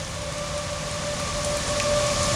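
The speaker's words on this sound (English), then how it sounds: "It's been raining the whole time." Steady rain falls outdoors by a creek where minnow traps are being checked, a continuous even hiss close around, with a faint tonal hum running underneath and no talking.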